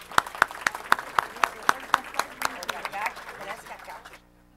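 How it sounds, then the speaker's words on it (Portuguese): A small conference audience at a session on shared custody and parental alienation claps in a steady, evenly spaced rhythm of crisp individual claps that gradually loosens and fades out after about four seconds. "Uma salva de palmas."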